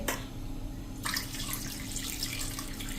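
Water runs into a pressure cooker holding a stand for boiling potatoes, a steady, close pouring rush that starts stronger after a moment and continues evenly.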